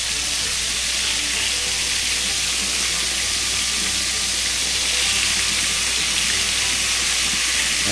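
Pork chops sizzle steadily in a seasoned cast iron skillet after being flipped, a dense, even frying hiss that stays loud and close throughout with no talk.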